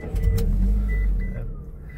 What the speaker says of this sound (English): Car starts right up.